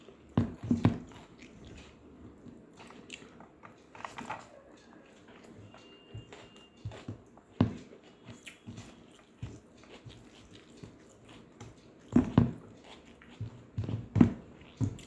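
A person chews food with soft, irregular wet bites and mouth sounds, scattered close-up crunches and squishes over a quiet room with occasional louder bursts.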